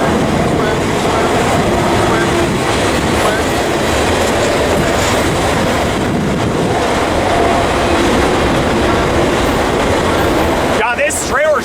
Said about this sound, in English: God, this trailer train's hauling ass down Cajon.